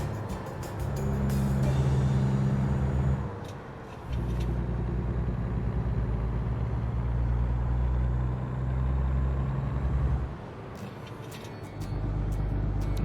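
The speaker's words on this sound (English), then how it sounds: "The shifting sound is very good too." Truck engine from American Truck Simulator, a bobtail rig with no trailer, droning loudly and steadily, with the pitch dropping and rising through gear shifts near the four- and ten-second marks.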